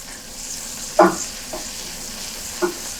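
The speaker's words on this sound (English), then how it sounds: "I'm going to give it all a little stir." Anchovy garlic butter with parsley being stirred in a pan, a steady close sizzle with a few soft scraping strokes of the spoon at intervals, no talking.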